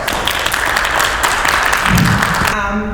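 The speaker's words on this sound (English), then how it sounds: "Please give her a round of applause" Loud, dense clapping from an audience at a talk fills the room, then cuts off as a voice begins speaking.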